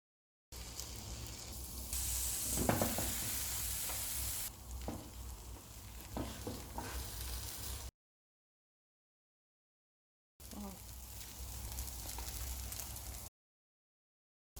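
Bun dosa batter frying on a hot pan gives a loud, close, steady sizzle with soft stirring and scraping, broken by two silent gaps before the hiss resumes.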